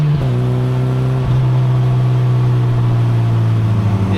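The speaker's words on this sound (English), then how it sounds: "It's currently getting some great use right now because I just love the way it sounds through the whole rev range." A Mazda NC Miata fitted with a used aftermarket muffler on the stock manifold and mid-pipe, its exhaust droning steadily and loud with a brief dip and rise in revs partway through, no voices.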